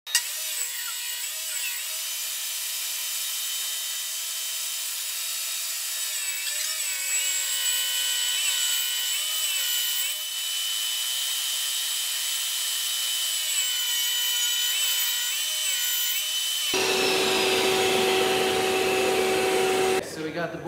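Table saw ripping a wooden board to 3.5 inches wide and resawing it to 3/8 inch thick for a bird house, heard as a long, loud, steady whine with shifting pitch as the wood feeds through, then a changed tone near the end.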